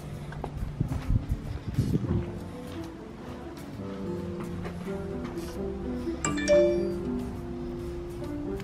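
A Simplisafe Video Doorbell Pro and a Nest Hello doorbell sound motion notification chimes, heard as a few tonal ding-like notes amid low background clatter and shuffling, moderately loud and near.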